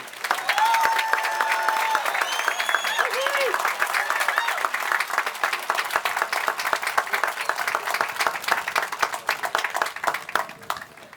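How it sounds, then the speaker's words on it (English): An audience at a podium event about HB 2 gives a hearty round of applause, with steady overlapping hand claps that stay fairly loud and gradually thin out over about eleven seconds. "she deserves a hearty round of applause and welcome to this podium"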